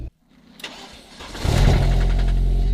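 A damaged BMW drift car engine, started cold, cranks briefly, then catches and settles into a loud, rough, rumbling idle with a rhythmic knocking underneath from a suspected connecting rod bearing fault.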